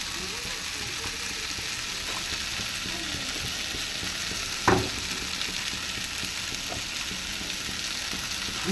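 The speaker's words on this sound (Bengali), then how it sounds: "এই যে ডালটা মুসুরি ডাল রান্না করছি" Masoor dal cooking in a pan gives a loud, steady frying hiss that fills the whole clip, with faint scraping from a stirring spoon and one sharp knock partway through.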